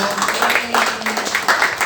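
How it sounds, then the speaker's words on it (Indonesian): An audience at a press conference for a teen drama series breaks into applause, a short burst of brisk clapping from a crowd close by that mixes with voices. "Tepuk tangan dulu untuk Putih Abu-Abu."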